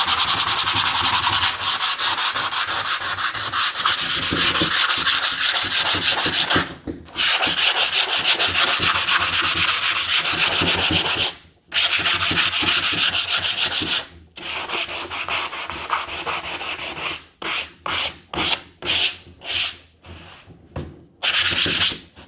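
Sandpaper rubs in long back-and-forth strokes over an NBA Jam arcade control panel box to smooth leftover roughness after decal removal. The sound is loud and steady at first, then breaks into shorter bursts with brief gaps.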